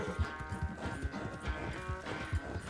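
A horse gallops in Red Dead Redemption 2 with rhythmic hoof clip-clops under a steady low game soundscape.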